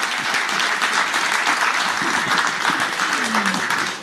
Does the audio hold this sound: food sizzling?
no